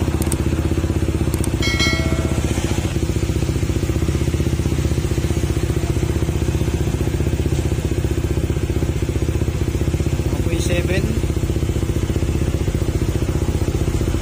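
A Honda PCX160 scooter engine idles close by at about 1,500 to 2,000 rpm, a steady low throbbing rumble that runs unbroken, with a few faint clinks and rattles over it.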